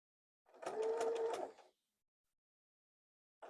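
A sewing machine stitches a flannel baby blanket toward a mitered corner in one close, rapid burst of about a second, then stops, leaving silence.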